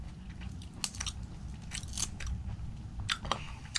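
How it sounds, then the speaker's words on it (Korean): Shrimp being peeled and eaten at a Korean seafood meal, with close, crisp crunching and biting bursts over a low room background, no talking. "서비스로 새우를 주셨는데 까먹어 보겠습니다"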